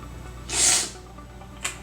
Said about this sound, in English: I'm sorry for sniffling.